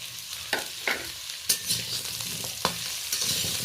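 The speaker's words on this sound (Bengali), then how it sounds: "সেই কড়াইতে আমি ভালো করে নেড়ে নিচ্ছি।" Vegetables, including drumstick pieces, are stirred in a hot wok for shukto dal, giving a steady sizzle broken by several sharp spatula clicks and scrapes against the metal, with no talking.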